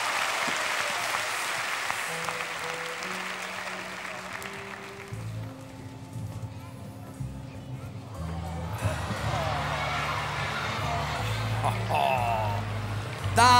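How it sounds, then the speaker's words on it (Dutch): Audience applause for a ballet troupe at a Christmas stage show, a steady wash of clapping that fades as music with low bass notes and singing voices takes over. "maar eens een applaus aan ons ballet."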